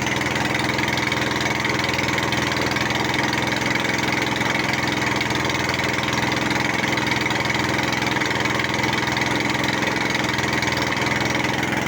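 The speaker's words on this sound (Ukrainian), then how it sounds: "Двигун прогрівається поки." A small engine driving an induction generator warms up at idle, running steadily and continuously for the whole stretch, a close, even mechanical drone with no voices.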